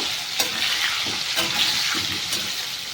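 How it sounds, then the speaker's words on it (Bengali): Potato pieces frying in oil with turmeric and salt, a loud, steady close-up sizzle with a few sharp scrapes of a spatula turning them, no talking. "লবণ দিয়ে ভালো করে ভেজে নেব"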